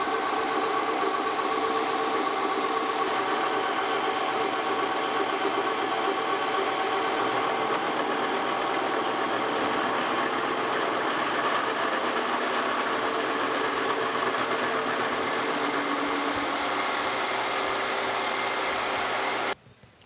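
A milling cutter with several teeth engaged takes an interrupted cut on steel for steam locomotive spring hangers, a loud steady grinding drone with rhythmic pounding that stops abruptly near the end.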